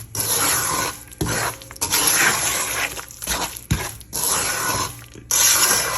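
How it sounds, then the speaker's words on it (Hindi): Halwa roasting in a pan while being stirred, with long rasping scrapes of a spoon across the pan broken by short pauses, close and steady, no voices. "अब हम इसको भूनेंगे।"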